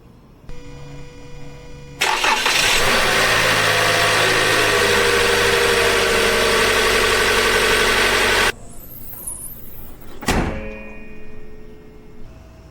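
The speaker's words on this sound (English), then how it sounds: "I'm going to start the car." A 2018–2023 Toyota Camry engine cranks and catches with a loud, steady roar for about six seconds, then cuts off abruptly, followed by a sharp thunk and quieter mechanical clicks; no talking.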